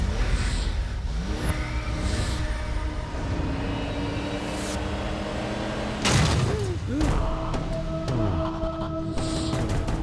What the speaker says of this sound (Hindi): किसकी है वो गाड़ी?